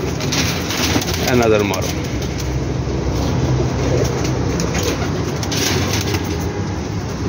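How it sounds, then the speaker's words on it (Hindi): A pigeon coos softly at close range under steady background noise, while someone talks over it in Punjabi-accented Hindi. "यह वेखो माशाल्लाह जी बड़ा कमाल का कबूतर है भी"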